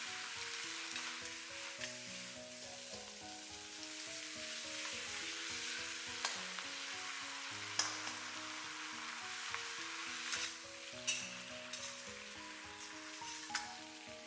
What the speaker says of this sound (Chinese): 把包菜炒至5成熟，这样比直接焯水更有味，炒出来的包菜依旧脆爽。